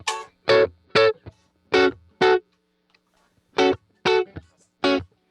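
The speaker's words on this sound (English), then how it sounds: "Little distortion is nice." An electric guitar runs through a distortion effect during a music production session. It plays short, gritty chord stabs, loud and close, in two rhythmic groups of several hits separated by a brief silence.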